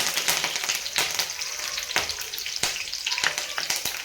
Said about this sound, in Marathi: लसणाच्या पाकळ्या पण मी तेलात टाकून घेतलेल्या आहेत आणि त्यामध्ये आपल्याला थोडासा कढीपत्ता पण टाकून घ्यायचा आहे